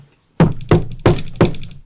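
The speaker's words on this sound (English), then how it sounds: "you hear a knock at the door" Four firm knocks on a door, close and loud, evenly spaced after a moment of silence.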